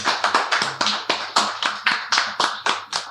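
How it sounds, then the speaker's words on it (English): A small audience at a finance talk event claps, sharp distinct hand claps in a quick regular run, close and fairly loud, sparse rather than a full roar. "We want to give him a round of applause."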